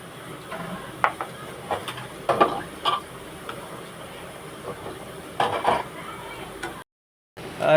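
Seeds and curry leaves temper in hot oil in a pan for a carrot fry, giving sparse, faint crackles and pops scattered over a quiet background, with a brief dropout near the end.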